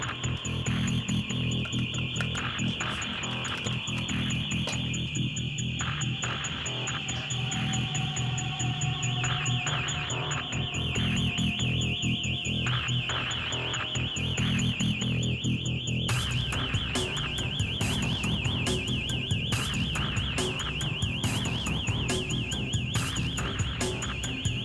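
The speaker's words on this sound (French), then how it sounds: "Dans l'obscurité et le vacarme de l'alarme," An alarm blares continuously through a dark break-in scene, a steady high-pitched electronic tone with a rhythmic pulse. Buzzing background noise sits beneath it and grows harsher and louder partway through. No one speaks.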